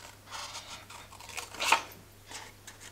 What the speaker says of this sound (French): je viens couper tout autour